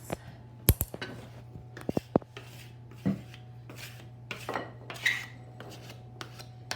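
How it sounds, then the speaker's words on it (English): A pastry scraper rasps across a countertop, clearing away leftover dough and flour in soft, close scraping strokes mixed with light clicks and taps. "What I'm gonna do is I'm actually just gonna scrape all of this excess."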